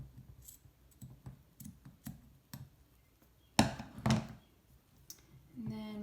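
Scissors snip off excess yarn wrapped tightly around a glass jar for a nautical candle holder, a couple of sharp close cuts standing out from quiet handling clicks and taps.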